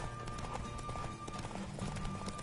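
Horse hooves clip-clop steadily in The Witcher 3 video game, a continuous rhythmic trot set against a busy game soundscape.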